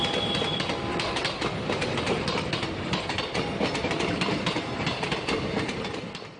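A long freight train hauling oil tanker wagons rolls past near Changanassery, a loud, steady rumble with rhythmic wheel clatter over the rails, heard alone without voices.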